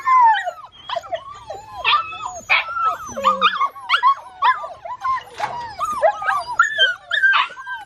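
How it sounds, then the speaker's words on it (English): Puppies, including a little brindle, whimper and yip in a busy overlapping chorus of high, wavering cries and short yelps, close and continuous throughout. "I guess I've got about 14 more puppies"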